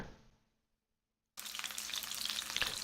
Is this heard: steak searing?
yes